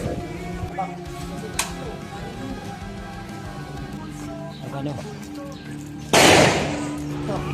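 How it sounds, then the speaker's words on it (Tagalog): A single loud Armalite rifle shot cracks out near the end during an amulet test, preceded by quieter background noise and movement. "ang gagamitin niya rito ay yung Armalite. So yun, unang putok ano."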